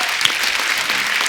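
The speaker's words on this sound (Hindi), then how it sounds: "इनके लिए जोरदार ताली हो जाए।" A television comedy show studio audience claps loudly and steadily, a dense wash of applause with no break.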